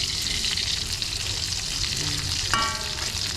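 Leftover fried chicken from a fiesta crackles steadily in hot oil, a dense continuous sizzle close by with one brief clink partway through, no voices.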